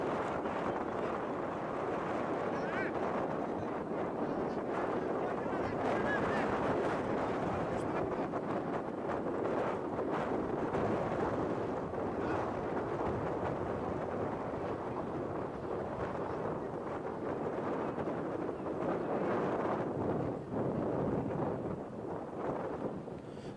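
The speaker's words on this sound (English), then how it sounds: "It's quite windy out here." Steady wind buffets the microphone throughout at an outdoor AFL football match, a continuous broadband rumble and roar with no pauses.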